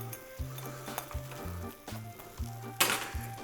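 A sourdough grilled cheese sandwich fries in butter in a pan with a soft, steady sizzle. Low rhythmic thumps and a brief bright scrape near the end come from the pan, and no one speaks.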